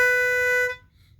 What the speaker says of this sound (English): I got a pitch pipe right here. I'm gonna blow into it.